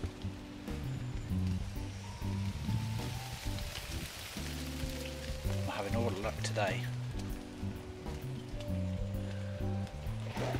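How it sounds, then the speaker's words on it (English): Rain patters steadily on bushes and leaves overhead, a continuous close hiss of drops, while someone speaks briefly and other low sounds hum underneath. "It's now tipping with rain,"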